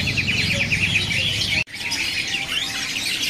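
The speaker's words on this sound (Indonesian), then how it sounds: "ada beranjangan Jatim yang trotol udah bunyi ya" A spotted juvenile East Java bushlark sings close by in a shop setting, a continuous run of bright chirps and trills over background chatter and other birds, briefly cut off midway before resuming.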